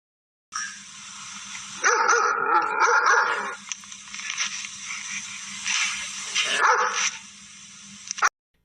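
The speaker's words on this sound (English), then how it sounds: "D for dog" A dog barks loudly and close in a children's alphabet counting lesson, a few sharp barks and yips with rough, continuous barking throughout.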